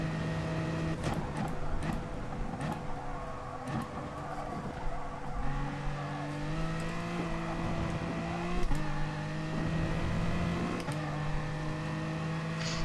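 A race car laps a circuit in Gran Turismo Sport on fresh tyres with no fuel, its engine whining steadily and shifting pitch through gear changes, with occasional sharp clicks and bumps.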